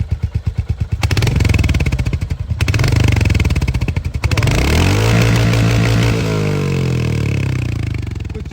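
A Royal Enfield Hunter 350 on its stock exhaust thumps at idle and is revved several times, with loud, close blips rising and falling before settling back to a steady idle.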